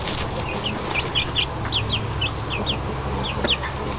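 Hen with baby chicks on a farm: repeated high peeping chirps from the chicks over low clucking and steady background noise, close and fairly loud, no talking.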